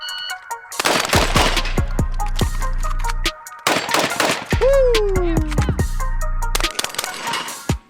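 A shotgun fires rapid shots in quick bursts, loud and close, with sharp cracks separated by brief pauses and a ringing, sweeping tone in the middle.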